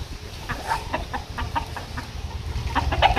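A chicken clucks in a rapid, steady series of short calls, fairly close and clear over low background noise.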